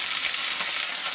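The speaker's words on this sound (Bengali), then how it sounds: "এটা একটু হালকা করে ভেজে নেবো" Onions and mixed vegetables frying lightly in a pan for a homemade chicken soup, giving a dense, even sizzle that holds steady through a brief moment with no voices.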